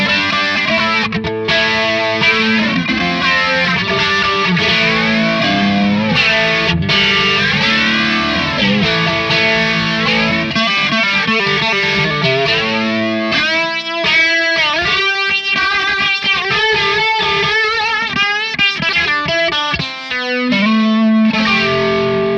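An electric guitar plays through a Hamstead Redwing analog stereo modulator with distortion ahead of it, giving a brash, gritty tone with a sweeping, wobbling modulation that continues steadily throughout.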